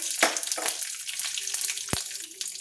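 Curry leaves and dried red chillies hit hot oil in a mustard-seed tempering, giving sharp bursts of sizzling and crackling with a few spits and a brief stir, close up.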